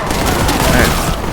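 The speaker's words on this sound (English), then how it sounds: "Let's give this man a crack grenade." A crack grenade detonates in Warhammer 40k Boltgun, a loud, dense burst of blast and gunfire-like crackle lasting about a second over continuous game noise.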